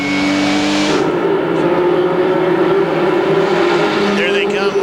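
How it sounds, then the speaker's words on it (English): An ASA stock car on track in the 1998 AC-Delco 300, heard from an on-board camera: a loud, steady engine roar that rises and falls as the throttle is worked, constant and close, with a commentator talking over it. "Listen to him work the throttle."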